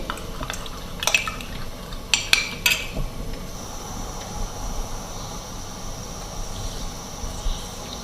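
Custard powder being stirred into milk in a cup, a quick run of light spoon clinks against the cup early on, then a quiet stretch of faint drips and background hiss, no speech.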